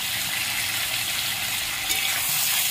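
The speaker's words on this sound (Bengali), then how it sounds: "কেটে রাখা টমেটো, কেটে রাখা 4টে কাঁচা লঙ্কা দিয়ে দিচ্ছি।" Chopped tomatoes and four sliced green chillies hit a hot frying pan of spiced oil, giving a loud, steady, hissing sizzle that continues without a break.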